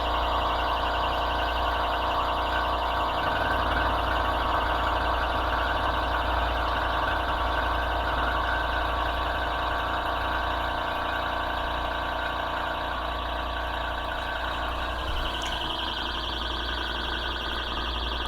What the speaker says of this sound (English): if that removes the sound from our little alarm.